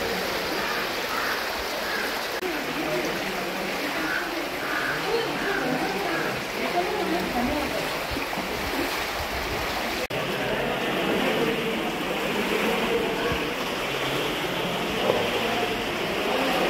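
Shallow water flows over rocks at a waterfall site in Mussoorie, a continuous broadband rushing hiss that stays steady and fairly close, with voices faintly underneath.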